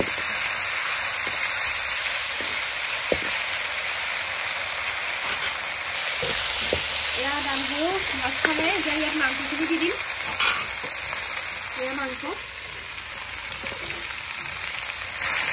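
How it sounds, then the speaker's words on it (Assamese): Duck meat fries in a pan with a steady, loud sizzle and light spattering, while a voice speaks briefly partway through. "হাঁহ মাংস যিমানেই ভাজে সিমানেই ভাল"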